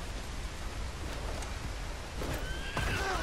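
A horse in the video game Red Dead Redemption 2 lets out a whinny near the end, rising over a steady wash of rain-like noise, with no talk.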